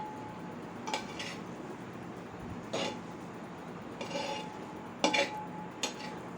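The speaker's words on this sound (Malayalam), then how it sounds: "നമുക്ക് ഇളക്കി കൊടുക്കാം." Avial curry stirred in a pot with a spatula, light intermittent scrapes and clinks of the spatula on the pot rim over a quiet kitchen background, several separate strokes, close but soft.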